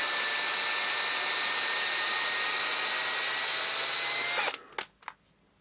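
A power drill whines steadily while driving a spiral-flute drill tap into a hole in a steampunk reciprocating chronometer kit, loud and close, then cuts off and leaves a few short clicks and knocks.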